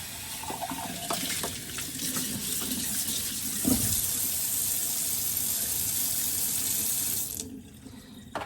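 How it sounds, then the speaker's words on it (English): Water runs steadily from a kitchen tap into a container for about seven seconds, a close, continuous splashing rush that cuts off abruptly near the end, followed by a brief clatter. "So just get a bit more water in there."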